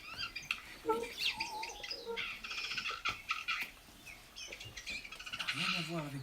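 A bird's territorial song: bright chirping and warbling phrases repeat through the clip, clear and fairly close, with a rising run of notes near the end.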